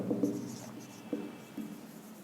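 A pen writes on paper in short, close scratchy strokes, several separate scribbles in a quiet room.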